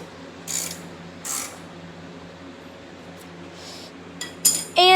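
A ratchet wrench clicks in a few short bursts during assembly of an LX25, with brief metallic clinks over a quiet background hum.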